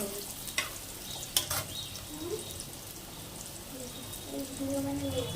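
Slices of bitter gourd fry in a pan with a soft, quiet sizzle, broken by a few sharp spatula clinks and scrapes, while a voice murmurs faintly in the background.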